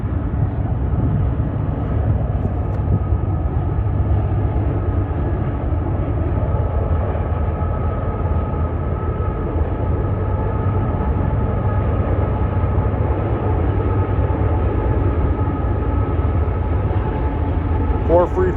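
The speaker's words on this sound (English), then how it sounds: "The Manifest train westbound." A westbound Norfolk Southern manifest freight train rumbling past steadily by the river at Sterling, Illinois, a continuous low roar with a rattling wheel clatter that holds the whole time, fairly close.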